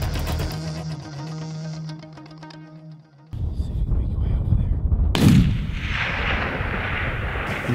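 A hunting rifle fired at a Dall sheep in Alaska: a loud, close, abrupt report with a rolling outdoor echo and muffled handling noise around it, after a quieter stretch of murmuring.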